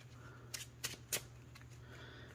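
Trading cards from a Yu-Gi-Oh! Branded Tearlaments deck being shuffled back into the deck: several short, crisp riffling bursts close up, spaced irregularly over a quiet room hum.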